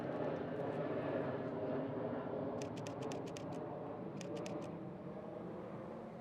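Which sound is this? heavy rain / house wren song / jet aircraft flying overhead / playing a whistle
jet aircraft flying overhead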